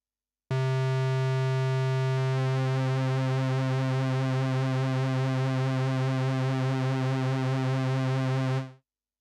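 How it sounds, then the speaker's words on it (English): Roland Jupiter-8 synthesizer holding one steady, loud note for about eight seconds, its tone swirling as the LFO slowly sweeps the pulse width, then cutting off cleanly. "What you hear now is that the LFO of the Jupiter 8 changes the pulse width."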